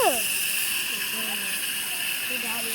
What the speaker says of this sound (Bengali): মাংসের জন্য আলু ভাজা চলছে।